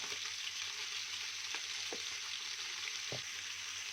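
Chicken pieces fry in a pan with a steady, close sizzle, broken by a few soft clicks and taps as they are turned.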